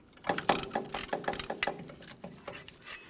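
A caliper compression tool is worked by hand on the front brake caliper of a 1998-2011 Ford Ranger, giving a close series of quick ratcheting clicks and metallic ticks in uneven bursts, with no talk.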